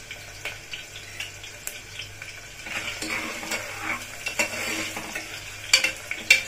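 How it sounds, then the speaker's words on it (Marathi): Curry leaves tempering in hot oil for a village-style green masala mutton rassa, giving a steady soft sizzle and frying crackle with occasional sharper pops and stirring sounds, fairly close and with no talking. "कढीपत्ता पण आपण फोडणीला घालू।"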